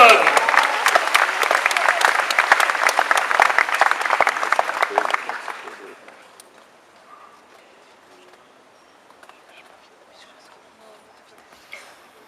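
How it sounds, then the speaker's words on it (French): A Comic-Con crowd at a cosplay contest breaks into loud sustained applause for a contestant, thick clapping for several seconds before it tapers off into near silence with faint scattered noises. "On l'applaudit très fort, Comic-Con."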